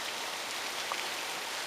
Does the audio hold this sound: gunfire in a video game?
no